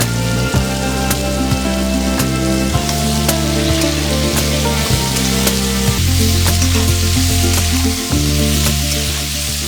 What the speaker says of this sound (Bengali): পটলের টুকরোগুলো দিয়েও ভালো করে একটু ভাজা ভাজা করে নেব